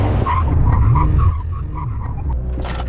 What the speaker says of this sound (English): let's do a brake test. 70 miles an hour, line, full emergency stop